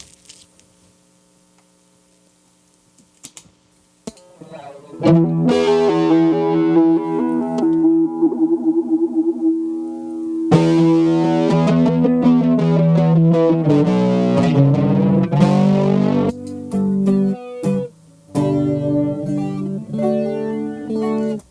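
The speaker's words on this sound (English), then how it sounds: "essentially, this is the sound of flange." A modular synthesizer tone runs through a flange effect, its sweeping, swirling harmonics shifting over sustained notes after a quiet hum-filled start, with loud droning passages and brief gaps.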